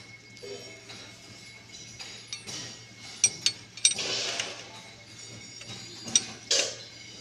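A bike bolt is tightened during a home bike service, with ratcheting clicks and metallic mechanical rattling close by over a steady background hum.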